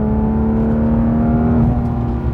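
A car climbing through the curves of the Cherohala Skyway in the Smoky Mountains, its engine holding a steady, loud drone with a rising tone as the gas is slowly built up, no talk over it.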